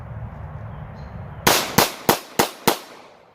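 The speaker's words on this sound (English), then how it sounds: "We'll put 5 rounds of this stuff through it to cap off the day." Five sharp gunshots from a Taurus TH9C pistol firing Sports Shooter ammunition crack out in a steady, evenly spaced string after a quiet pause, each report loud and close with a short decay.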